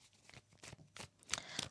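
Tarot cards being shuffled by hand, a soft, quiet run of papery riffles and flicks with a few sharper snaps near the end, close and alone.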